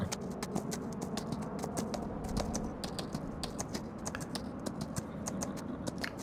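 Rapid hoof clip-clops from horses being ridden on a farm in Farming Simulator 25 tap in a quick, uneven rhythm, close and crisp, over a soft steady background with no talking.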